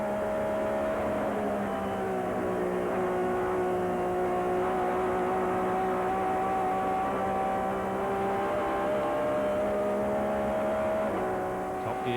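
Onboard a BTCC touring car driven by Alain Menu at Thruxton, the engine holds a loud, continuous high-revving tone with steady harmonics, with slight pitch dips around gear changes.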